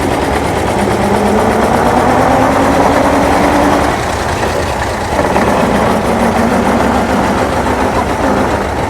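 The two-cylinder engine of a 1902 Westfield car runs loudly and continuously nearby, with a busy, slightly uneven mechanical chugging and clatter that stays steady for the whole stretch and is heard without any talking.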